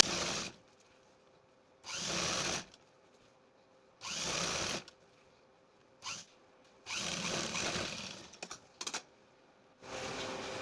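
A sewing machine stitches folded fabric for piping on a full-sleeve garment, running in about six short whirring bursts of a second or so, separated by quiet pauses.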